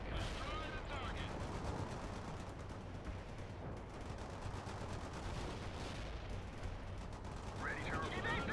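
Heavy machine gun rattling in continuous bursts in World in Conflict amid battlefield noise and radio-style voice chatter, a steady dense clatter throughout.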